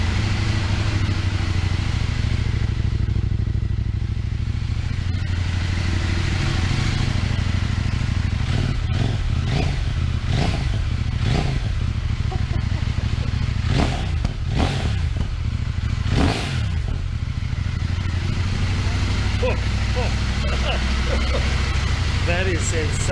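CF Moto MT800 motorcycle fitted with a new exhaust, its engine running loud and close with a steady deep drone, then a run of sharp revs and throttle blips through the middle section.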